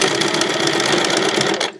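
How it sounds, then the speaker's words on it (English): A sewing machine back-stitches elastic shirring on fabric, a loud, rapid, even needle chatter heard close up for nearly two seconds before it stops abruptly. "when you start sewing, you want to back stitch just a couple times because you don't want the elastic to pull out"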